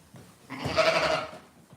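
A sheep at lambing time gives a single wavering bleat, moderately close, with faint background noise and no talk.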